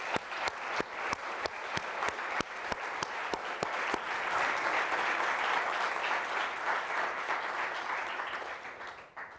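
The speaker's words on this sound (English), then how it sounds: "So a round of applause." An audience at a youth forum award announcement applauds. A few sharp, separate claps come first, then they swell into dense, steady applause that slowly tapers off at the end.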